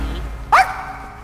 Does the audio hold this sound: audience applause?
no